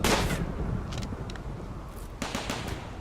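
RimWorld combat gunfire: a few scattered shots and bursts, moderately loud, spread unevenly over a steady background rumble with no talking.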